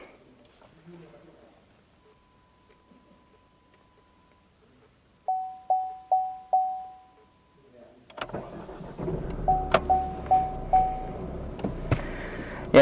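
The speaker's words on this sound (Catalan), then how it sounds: "ara arrencarem el vehicle." Inside a 2016 Opel Astra Dynamic, a series of soft dashboard chimes sounds first, then the engine cranks and catches, settling into a steady idle while more chimes ring over it.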